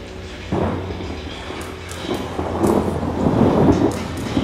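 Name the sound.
thunder in the video game Outlast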